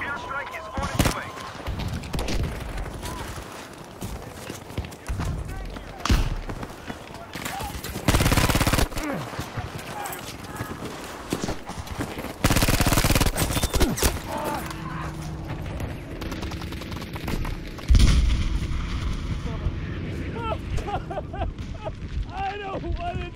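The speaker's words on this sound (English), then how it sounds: "Airstrike is on its way." An airstrike and gunfire in the Battlefield 5 video game on Wake Island: dense, loud battle noise with sustained firing and two heavy explosive blasts midway, a sharp impact later, and voices mixed in throughout.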